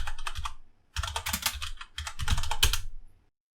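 Quick, uneven keystrokes on a computer keyboard as terminal commands are typed in three close bursts, a brief pause between them, with no voices.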